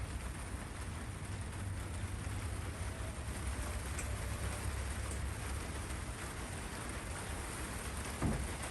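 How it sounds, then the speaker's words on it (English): Steady, dense rain drums on a greenhouse roof during a mid-winter visit, a continuous close hiss and patter with no break, alone without voices. "If you can hear the rain."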